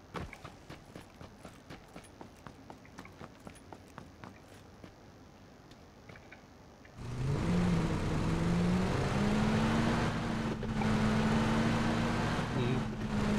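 A vehicle engine in the PUBG video game on a new desert map, starting after quiet footsteps and then droning loudly and steadily as it drives off.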